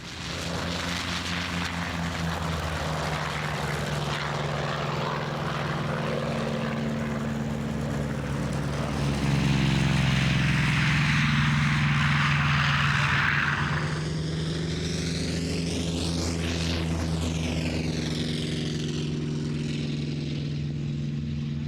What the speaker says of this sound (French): Corsair, c'était un avion par l'US Navy